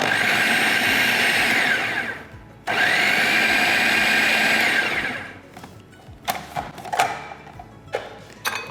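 A food processor whirs loudly while mixing pineapple tart dough, running in two long bursts with a short break between, then stopping, followed by clattering and scraping.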